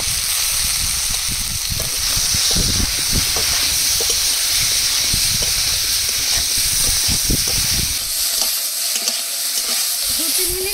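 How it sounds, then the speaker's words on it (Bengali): Eggplant pieces sauté with salt and turmeric in a hot pan, a close, constant oily sizzle and hiss broken by repeated scraping stirs, with no voices. "এবার লবণ হলুদ দিয়ে বেগুনগুলো কষিয়ে নেব"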